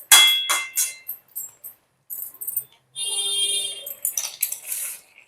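A metal pot lid clatters and rings as it goes onto a pan of pumpkin-leaf and vegetable curry, with several sharp clangs followed by a sustained metallic ringing, close and loud against an otherwise quiet kitchen.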